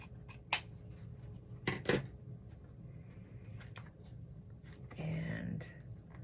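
Scissors snip wired ribbon during bow making, a few sharp close cuts in quick succession amid quiet rustling, with soft handling noise after.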